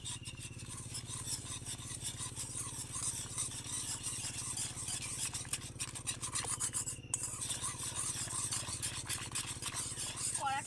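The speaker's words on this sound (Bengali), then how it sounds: "এবার প্রথমে আমি জলের সাথে দুধটাকে ভালো করে গুলে নেব" Powdered milk is stirred into water in a bowl with steady, rhythmic scraping and rubbing strokes, close and continuous but quiet, with faint background hum beneath.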